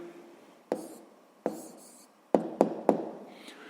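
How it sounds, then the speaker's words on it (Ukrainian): A pen or pencil writes an answer by hand on paper, giving a few sharp taps and short scratching strokes with quiet pauses between them, close and fairly faint. "Записуємо відповідь."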